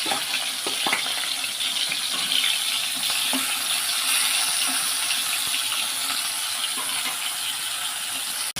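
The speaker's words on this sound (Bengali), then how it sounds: "এরপর কড়াইতে তেল দিয়ে দেব মাছগুলো ভেজে নেওয়ার জন্য" Rohu fish frying in hot oil in a wok, giving a steady, loud, dense sizzle and hiss that holds for the whole stretch, with a few faint clicks and taps over it and no talk.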